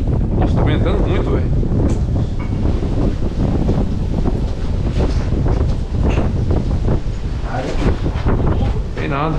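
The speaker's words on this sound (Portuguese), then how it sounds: "Nossa, tá ventando muito" Strong wind gusting hard across the microphone outdoors, a loud continuous roaring buffet with people talking underneath.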